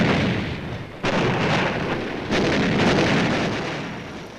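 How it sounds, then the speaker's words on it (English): Night artillery duel on Iwo Jima: a dense, continuous roar of distant guns and rumbling blasts, swelling sharply at two points and then slowly fading, with no voices. "We call for artillery. An artillery duel develops at night."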